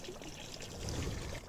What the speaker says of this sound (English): And this over here is just a turtle pond spitter.